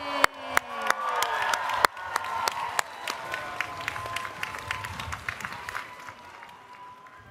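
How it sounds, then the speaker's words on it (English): An audience applauding for visiting Buddhist monks at the National Cathedral in Washington, DC, with a few sharp claps at first and then a steady, dense round of clapping that slowly fades. "Applaud for them."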